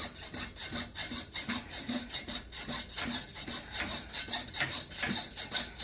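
A coping saw pierces out shapes in a domed, etched copper piece, making quick, even, close back-and-forth strokes with a thin metallic rasp and a high ringing edge.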